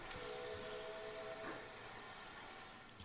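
A train in the railway management game Transport Fever 2 rumbles along steadily with a faint mechanical hum and brief whistle-like tones. The sound plays alone, with no speech over it.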